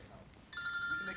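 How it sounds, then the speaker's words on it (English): A telephone ringer bursts in partway through with a loud, steady, bright electronic ring that holds to the end, following a quieter stretch of low background sound. "That sounds like a phone ringer, doesn't it?"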